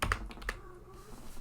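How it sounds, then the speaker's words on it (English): Several soft clacks sound as a cat steps across a computer keyboard, two sharper taps near the start followed by quieter, scattered key presses in a still room. "Can you, like, stop stepping on my keyboard?"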